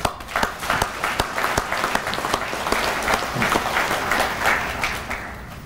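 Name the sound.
audience applause for award winners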